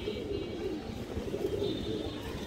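Pigeon with a small beak, red eyes and deep purple legs, kept by a fancier, coos in soft, low, steady murmurs that run continuously with no talking over them.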